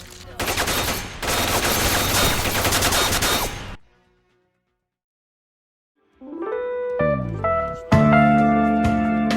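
Dense automatic gunfire rattles loudly for several seconds in S.T.A.L.K.E.R., then cuts to silence before tonal music and electronic effects take over.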